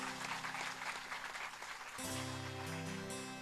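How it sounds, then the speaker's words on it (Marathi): Audience at a Marathi Devi Bhagwat Katha religious discourse clapping for a devotional tableau; steady clapping for two seconds, then partly masked as sustained musical tones enter and continue. "एकदा जोरदार टाळ्या वाजवूया"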